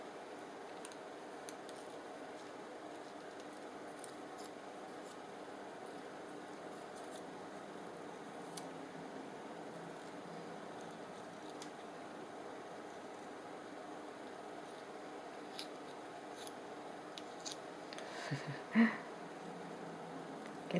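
Scissors snip out a small paper neck piece, giving faint, scattered crisp cuts close by over a quiet steady background hiss, with a slightly louder rustle toward the end.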